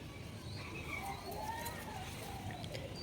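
Giribaz and Madras pigeons coo softly in a caged sale setting, faint gurgling calls spread through a quiet, hissy background.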